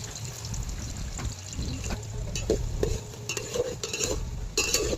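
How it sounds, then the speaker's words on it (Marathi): Onions and masala are stirred and fried in a pan over a wood-fired stove, a close soft sizzle punctuated by repeated scraping strokes of the spoon against the pan. "आता छान कांदा भाजत आहे."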